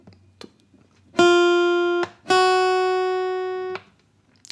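Two sustained guitar notes ring out one after another in a slow two-finger beginner exercise, each held for about a second, close and clear, with a few soft taps before and after and no talking.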